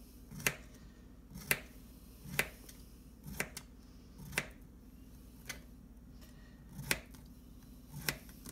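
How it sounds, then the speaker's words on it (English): A knife slicing zucchini on a cutting board, each cut a crisp tap landing about once a second in a steady, close rhythm, with no voices. "Just gonna cut her in slices just like you're doing the cucumber."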